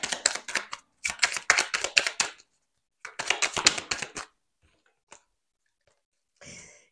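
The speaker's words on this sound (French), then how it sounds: "on prend une dernière petite carte pour vous avec le petit oracle des guidances étoilées" A deck of oracle cards is riffled in quick rattling bursts, three clear rounds of shuffling, followed by a few soft taps and a brief slide as a card is drawn.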